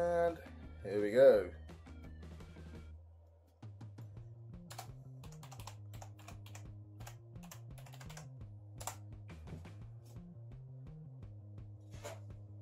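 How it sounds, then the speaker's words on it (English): A Windows 10 password typed quickly on a computer keyboard, a rapid run of soft, close key clicks over a steady low hum after someone speaks briefly at the start. "I'm going to type in the password as fast as I can"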